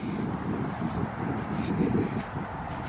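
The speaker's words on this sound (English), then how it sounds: "it's really windy" Gusty wind buffets the microphone in a cemetery with a low, steady rumble and no voices.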